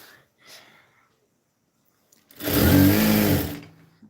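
A sewing machine stitching palazzo pants runs in one loud, steady burst of about a second, its fast mechanical whir starting abruptly after a quiet pause and brief soft sounds, then stopping.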